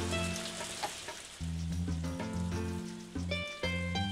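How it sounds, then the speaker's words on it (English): In the farming game Harvest Moon: Another Wonderful Life, rain hisses and patters steadily beneath looping melodic game music, an even wash lasting the whole stretch with no talking. "Yeah, it's going to keep raining."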